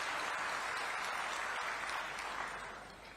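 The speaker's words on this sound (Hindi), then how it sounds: "भी जोरदार ताली से स्वागत करो।" A crowd at a political event in Raipur claps loudly to welcome a state minister, dense and continuous applause that gradually tapers off toward the end.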